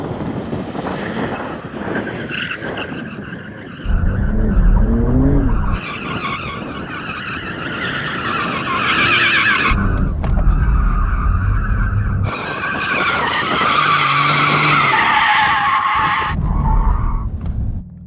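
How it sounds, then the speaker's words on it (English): Porsche 911 models, including a GT2 RS, Turbo S and GT3, spin their tyres to warm them before a drag race, with loud bursts of tyre squeal and skidding over revving engines, repeated several times nearby. "We need to warm up our tyres."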